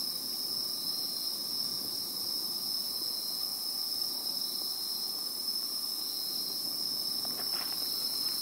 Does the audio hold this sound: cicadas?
yes